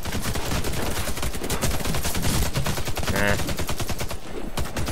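Rapid automatic gunfire from a Warface online shooter match fills the whole stretch as dense, loud, continuous bursts, with a brief spoken word underneath.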